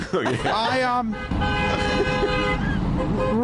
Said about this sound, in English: Talk about the honking horns.